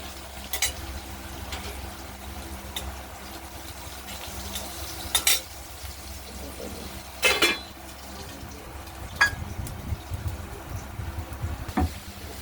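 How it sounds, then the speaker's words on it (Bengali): Steady sizzling of potatoes being lightly fried in oil for a paneer curry, with occasional scraping and clinking from stirring in the pan. "আলুগুলোকে আমরা হালকা করে ভেজে নেব।"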